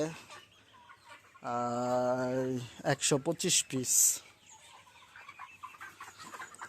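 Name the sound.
Sonali chickens clucking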